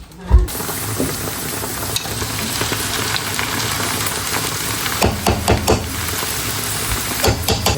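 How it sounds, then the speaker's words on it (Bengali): A paratha fries in a pan with a continuous, fairly loud sizzle. Sharp clicks and taps from a utensil or the pan break in now and then, and there is no talk. "আমি তোমাদের পরোটা ভেজে দিচ্ছি"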